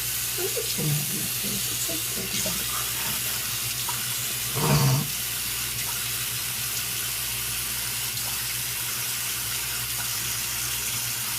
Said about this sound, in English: I always rinse before I brush, so that way you get all the gunk out.